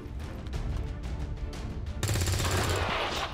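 Rapid gunfire in the video game XCOM 2 with the Long War 2 mod, heard as a stuttering volley of shots that swells into a louder, denser burst midway, with a low rumble under it.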